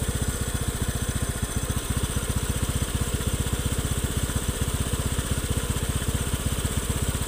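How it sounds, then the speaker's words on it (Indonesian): A Honda Beat FI scooter engine idles smoothly after servicing, close by and steady, with an even, rapid putter that holds through the whole stretch and no talking. "Nah ini untuk mesin suara sudah halus."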